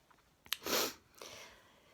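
One person sneezes indoors after coming in from a day outside: a quick sharp intake, a breathy burst, then a softer trailing exhale, close and fairly quiet with no speech.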